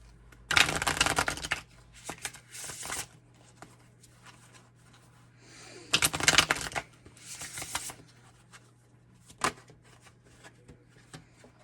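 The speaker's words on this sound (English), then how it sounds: "Let's pull some more cards for you guys." Tarot cards are shuffled and pulled in quick riffling bursts, two main flurries with a few softer card flicks and taps between them in an otherwise quiet room.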